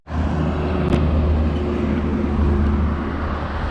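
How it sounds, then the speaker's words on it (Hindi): Vehicles roll past on the NH8 highway between Delhi and Jaipur, a steady, loud roadside rumble of traffic with a brief sharper burst near the start and no talking. "बहुत गाड़ी जा रही है यहाँ से"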